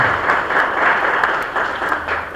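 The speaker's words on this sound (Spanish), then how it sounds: "Un aplauso al Señor." Church congregation applauding during a Spanish-language worship service, a steady, dense wash of clapping from many hands holding a fairly even level from start to finish without any voices over it.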